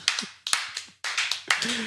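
A handful of people clap in a brief, uneven round of sharp, close claps in short bursts, with a voice briefly chiming in.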